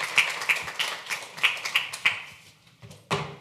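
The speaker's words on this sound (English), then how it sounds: "So we'll give them a big round of applause." Scattered claps from a small audience at a council meeting, a handful of sharp, spaced hits rather than full applause, moderately near and fading out toward the end.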